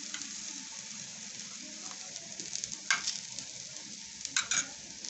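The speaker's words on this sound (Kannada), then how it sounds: "ತೆವೆ ಬಿಸಿ ಆಗಿದೆ ಈಗ ಇದಕ್ಕೆ ಸ್ವಲ್ಪ ಎಣ್ಣೆ ಹಾಕ್ತಾ ಇದ್ದೀನಿ ಪರೋಟ ಹಾಕ್ತಾ ಇದ್ದೀನಿ" Methi paratha sizzles in oil on a hot griddle, a steady soft frying hiss with a few sharper crackles and spatters.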